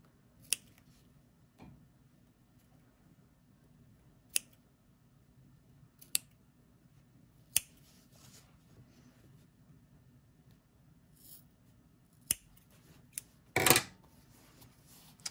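Scissors snip through swimsuit fabric while finishing a sewn swimsuit, giving a handful of sharp, isolated clicks spread across a quiet stretch, with a brief louder rustle of cloth near the end.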